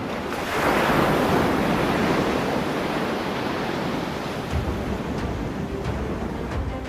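Rough sea waves churned up by Cyclone Yaas on the Odisha coast, a loud continuous roar of surf with heavy wind noise buffeting the microphone throughout, no voices.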